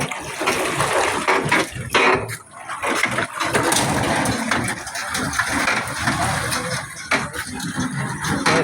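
A vehicle drives through knee-deep rainwater on a flooded road in an industrial area of Gazipur. The engine rumbles close by over continuous splashing and churning water, with no speech.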